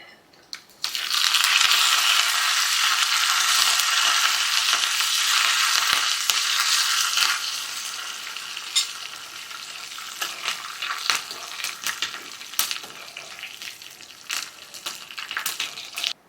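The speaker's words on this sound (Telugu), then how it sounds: "ఇవి ఫ్రై అయ్యాక కరివేపాకు కూడా వేసుకుని ఫ్రై చేసుకుంటున్నానండి" Curry leaves crackle and sizzle in hot oil while being fried as tempering for ivy gourd pickle. The spitting burst is loud and dense at first, then settles into steadier frying with scattered pops and stirring clinks.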